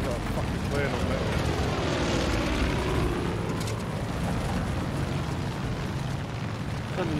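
A propeller airplane engine in the video game Far Cry 5 drones loudly and continuously as a broad, rushing roar, with voices faintly present beneath it.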